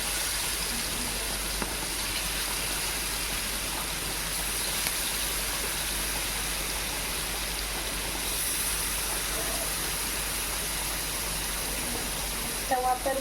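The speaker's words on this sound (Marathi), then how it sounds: "तो तव्यामध्ये घातला की पूर्ण तडतड उडतो" A large valgan fish frying on a hot tava griddle, crackling and spattering in a loud, dense, steady sizzle that runs the whole time with little change.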